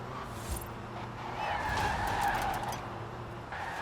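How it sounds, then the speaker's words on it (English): Car tires squeal and skid through a drift in the Forza Horizon 4 racing game. A sustained tire squeal rises and holds over the engine's rumble, loud and close, with no talking. "Okay, drifting around there."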